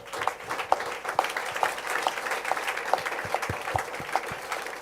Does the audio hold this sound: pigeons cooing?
no